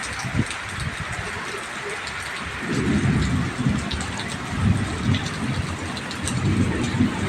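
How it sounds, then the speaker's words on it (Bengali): Steady rain falls in a dark storm with a low rumble of thunder rolling underneath, a constant hiss of drops on surfaces, and voices faintly present. "এখন বৃষ্টি হয়ে গেছে"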